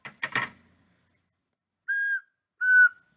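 A whistle gives two short, clear, steady blasts in quick succession, following a brief shaker rattle at the start, with silence in between.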